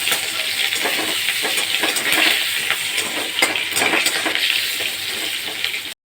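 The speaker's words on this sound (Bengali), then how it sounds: "এবার আমি ভালো করে আলুগুলোকে ভেজে নেব।" Potatoes and whole onions fry in a pan for a katla fish head curry, giving off a dense, steady sizzle that holds at even loudness throughout, with no talking.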